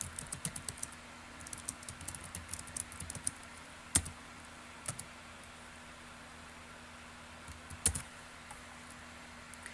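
Computer keyboard keys being typed on while a note title is entered, a run of quick soft clicks early on, then sparse isolated taps with a couple of sharper strikes, close and quiet with no talking.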